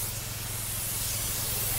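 Pesticide sprayed onto chili pepper plants makes a steady, close, loud hiss with no break.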